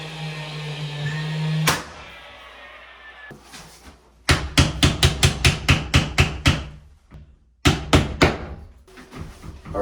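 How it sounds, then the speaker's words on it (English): Hammer blows drive a nail into interior door trim, a quick run of about a dozen sharp, evenly spaced knocks followed by a couple more strikes after a pause, close and clear with no talk. "I'm just gonna hide a nail right back in this corner here"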